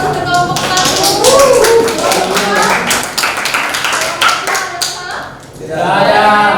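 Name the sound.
class applauding group 1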